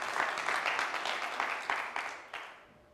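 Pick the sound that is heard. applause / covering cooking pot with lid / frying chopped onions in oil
applause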